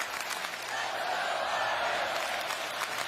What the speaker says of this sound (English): Notre Dame faithful on their feet, singing and clapping as the SC folks head for the exits.